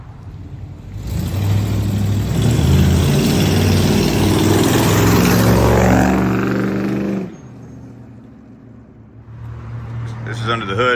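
A 1983 Ford Crown Victoria police car built as a mud bogger, its engine revving loud and close before settling to a rougher idle, with someone talking over it.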